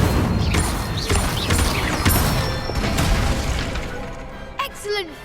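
Incendio fire spell blasts cast in Hogwarts Legacy, a dense string of loud whooshing bursts and crackling impacts with clattering mechanisms, fading to quieter chimes and a rising magical flourish near the end.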